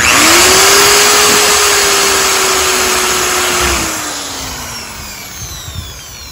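A hammer drill with a 3/16 bit bores holes while building temporary siding, running loud and close with a steady whine that slowly drops in pitch as it winds down, with no talking.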